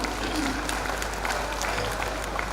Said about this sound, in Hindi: अब एक बार तालियां बजा दो